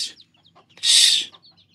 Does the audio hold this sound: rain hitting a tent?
no